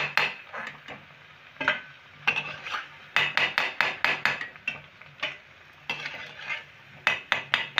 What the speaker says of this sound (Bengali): বাকি যেগুলো আছে আমি এইভাবে ভেজে নেব সবগুলো